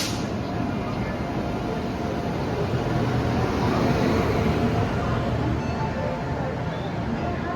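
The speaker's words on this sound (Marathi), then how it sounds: "आपली ट्रेन आलेली आहे बघा." Broadband rumble of a passenger train, the Nagercoil Express, pulling into a station on a Rameshwaram trip, a steady loud roar with slight swell midway, with speech from people nearby.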